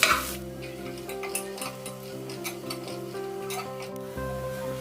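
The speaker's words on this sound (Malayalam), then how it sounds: "ഇതിലേക്ക് നമുക്ക് സവാള ചേർത്തിട്ട് നല്ല ബ്രൗൺ കളർ ആവുന്നത് വരെ വഴറ്റിയെടുക്കണം." Onions sautéing in a pan until browned and caramelized, a steady soft sizzle with occasional light clinks and scrapes of stirring, close and moderate, with no talking.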